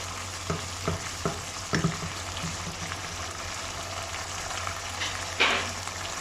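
Kaleji masala, spiced liver, frying in a pan while being stirred, a steady sizzle with several sharp scraping clinks of the spoon spaced through it, close up, no talking.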